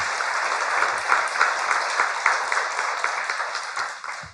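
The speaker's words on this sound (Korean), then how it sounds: "박수." A studio audience at a Korean talk show applauds in a steady, dense round of clapping, moderately loud and continuous throughout.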